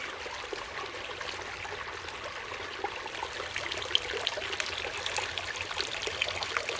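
Water flushing through a backpacking water filter on a fall trip in the Dolly Sods, a soft steady trickle and gurgle running close by and fairly faint, with no talking.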